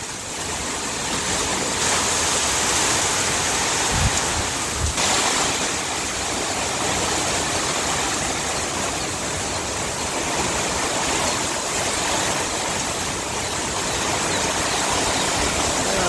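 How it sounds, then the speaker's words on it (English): Hurricane Milton's wind and rain roar without a break outside in Plant City, Florida, a loud, dense, unbroken rush of gusting air and pouring water with no voices. "A constant flow of wind and rain."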